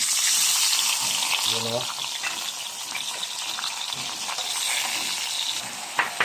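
Pork for humba sizzles and fries in a hot pan with a steady, close hiss that runs throughout, plus occasional stirring clatter, while a voice speaks briefly near the start.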